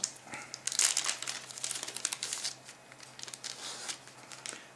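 The plastic wrapper of a pack of Runewars game cards crinkles and crackles up close in busy, irregular bursts, loudest early on and then tapering into lighter rustles.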